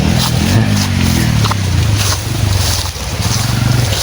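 Loud, close motor engine drone with a low, wavering pitch that rises and settles over several seconds, running continuously in the background.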